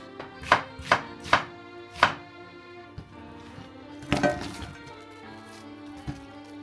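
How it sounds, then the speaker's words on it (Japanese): A knife cuts a new onion along its fibres into roughly 1 cm chunks on a cutting board, with four crisp, evenly spaced chops followed by a pause and a few more scattered cuts, close and clear. "繊維に沿って1センチくらいの太さにざく切りにしましょう。"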